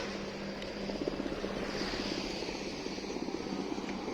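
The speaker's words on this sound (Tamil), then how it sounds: "ஹெலிகாப்டர் தான் ஃப்ரெண்ட்ஸ்" A helicopter's rotor thumps rapidly and steadily over a broad engine roar, fairly distant and constant throughout, with no voices.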